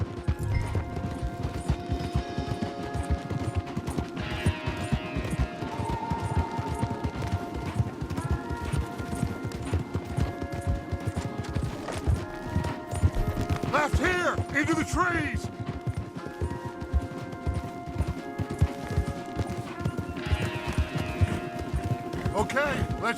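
Horses galloping in Red Dead Redemption 2, a rapid continuous clip-clop of hooves under game music, with characters shouting over the ride.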